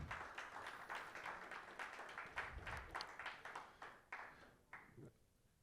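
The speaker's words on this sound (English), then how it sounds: "Can we have a round of applause for him, please?" An audience applauds a panelist at a roadshow event, a steady round of clapping from a crowd in a hall that thins and tapers off toward the end.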